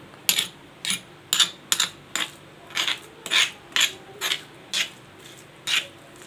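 Green chilies and raw mango are pounded for thecha, a run of about twelve sharp, even knocks in a steady rhythm, close by and alone without talk.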